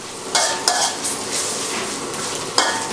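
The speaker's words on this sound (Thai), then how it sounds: "ผัดไปสักครู่ให้เห็ดหอมนิ่มนะครับ" Shiitake mushrooms stir-fried in a hot pan make a loud, continuous sizzle, broken every so often by sharp scraping strokes of a spatula against the pan.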